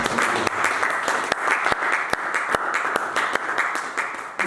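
Church congregation applauding, steady sustained clapping from many people throughout, fairly loud and even, with a few sharper individual claps standing out.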